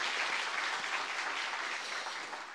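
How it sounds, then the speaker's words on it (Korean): Church congregation claps in thanks during a Sunday worship service, a steady dense applause from many hands filling the room, continuous and fairly loud throughout. "다시 한번 하나님께 감사의 박수 보내드리겠습니다."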